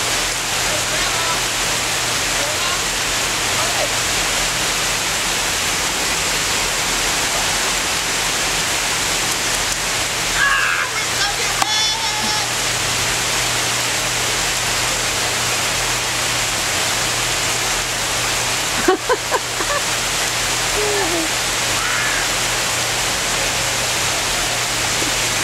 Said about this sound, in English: They're having a ball and it's pouring down rain.